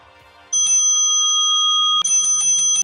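A desk bell sound effect with heavy reverb dings once, rings out with a lingering echoing tail, then is struck several times in quick succession.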